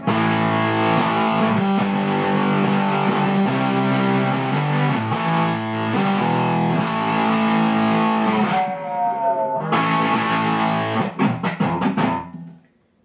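A heavily distorted electric guitar through a modded Boss DS-1 distortion pedal plays sustained chords and riffs, thick and saturated, ending with a few choppy strums before fading out.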